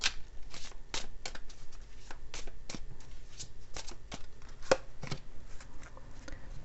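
Romance oracle cards are shuffled by hand during a tarot reading, producing a steady run of crisp, close riffling slaps and flutters with a brief louder snap partway through.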